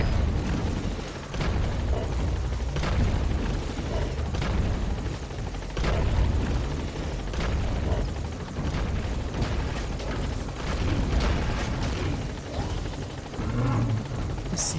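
A helicopter in Metal Gear Solid V: The Phantom Pain thumps with a steady, heavy rotor drone close by. Scattered thuds and bursts sound within the constant engine noise.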